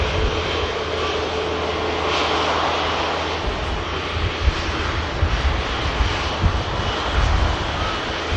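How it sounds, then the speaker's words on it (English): An Airbus A350-1000 passing at Manchester Airport, its engines giving a loud, continuous roar of broadband rumble that holds steady for the whole span, with no talk over it. "So as the aircraft passes past, look at the rear wheels, 4 on each side, it's an A350-1000."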